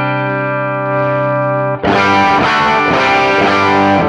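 A Stratocaster electric guitar plays sustained clean chords, then switches to a heavier overdriven tone through a Catalinbread Tribute parametric overdrive pedal, with loud, dense strummed chords continuing to the end.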